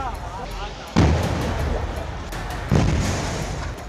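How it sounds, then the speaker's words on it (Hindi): Two loud, booming gas cylinder blasts about two seconds apart, each a sharp broadband burst followed by roaring rumble, like explosions heard at moderate distance. "इसके बाद एक के बाद एक करीब 18 सिलेंडर्स में ब्लास्ट हुआ।"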